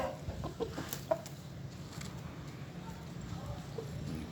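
A one-year-old Sindhi Aseel rooster, one of a handsome pair, gives soft clucks and calls close by amid farmyard noise, with people talking around it.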